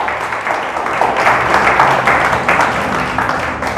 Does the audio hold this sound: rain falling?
no